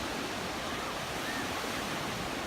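Ocean surf washes onto a cold beach at Oceano Dunes State Park, a continuous broadband rush of breaking water with no distinct individual waves, moderately loud and unbroken.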